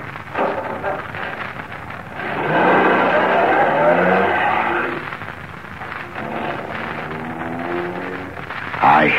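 A car engine drives steadily in an old-time radio crime drama sound effect, with a swelling motor drone in the middle and a brief louder burst at the very end.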